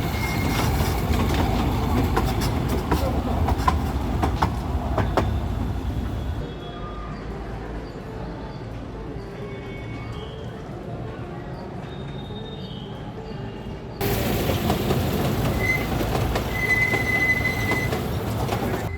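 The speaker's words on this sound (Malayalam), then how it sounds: "ഒരു ടോയ് ട്രെയിൻ ഇവിടെ ഉണ്ടാക്കി വെച്ചിട്ടുണ്ട്." A toy train runs at the Mysuru Rail Museum, its wheels clattering and squealing along the small track, fairly close and continuous, quieting midway as it passes through a short tunnel before the rumble returns.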